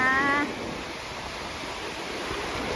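Sea waves wash steadily onto the beach at Khao Takiap in Hua Hin, a continuous soft surf rush with a brief faint voice at the very start.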